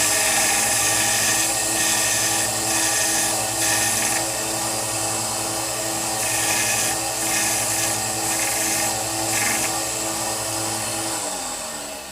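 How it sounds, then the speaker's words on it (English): A power sander grinds steadily against the end of an airsoft barrel to square it off, a loud, continuous whirring drone that holds for about twelve seconds before easing slightly at the end. "I'm just going to go ahead and sand the barrel so that it's nice and squared off on the end."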